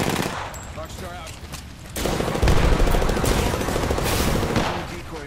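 Loud, rapid automatic gunfire from the shooter game Apex Legends, with dense rattling bursts that swell and continue almost without a break.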